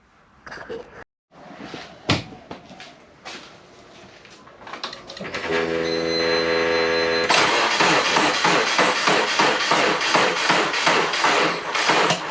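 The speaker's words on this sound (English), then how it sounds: "Normally that many cranks, it would have started." Twin-turbo Subaru engine cranking without firing, a few taps and clicks, then a steady mechanical whir of the starter and a rapid, rhythmic cranking churn that continues loud and close.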